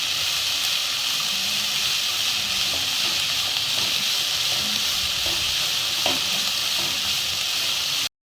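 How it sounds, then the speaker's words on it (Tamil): Momo filling with coriander frying in a pan, a loud continuous sizzle and hiss with occasional faint stirring taps, cutting off abruptly at the end. "இதை கொஞ்சம் நல்லா ஒன்றும் பாதியமாக ஃப்ரை பண்ணிக்கோங்க."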